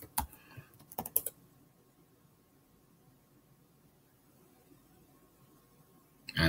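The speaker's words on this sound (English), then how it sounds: "I'm going to type it carefully." Brief quick keystrokes on a computer keyboard are heard nearby at the start, followed by near silence and a faint click at the end.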